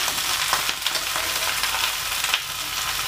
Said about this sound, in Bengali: আমাদের ঝিঙেগুলো চাপিয়ে দেওয়া হয়ে গেছে, এবার এটাকে ভালো করে ভেজে নিতে হবে একটু